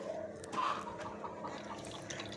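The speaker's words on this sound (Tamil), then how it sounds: "நல்லா தண்ணியை ஓட விட்டு நல்லா அலசி எடுத்துக்கணும்" Tap water runs steadily over small prawns being rinsed, a soft continuous splashing and trickle close by, with no talk.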